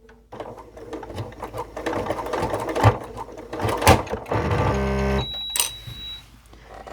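A sewing machine stitches a Christmas stocking in a loud, rapid mechanical run that surges unevenly as the fabric thickens, then drops to a lower steady hum and ends with a brief high tone.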